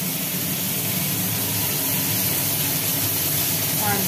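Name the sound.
sliced bitter gourd frying in hot oil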